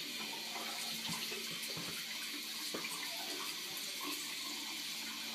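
Hands rinsed under a running tap, a steady, close hiss of water with faint splashes as the hands move through the stream, no talking.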